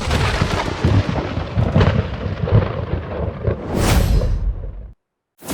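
Heavy thunder from a sky lightning tribulation rolls and crashes loudly, with a rushing whoosh near the end, then sudden silence and a final sharp burst.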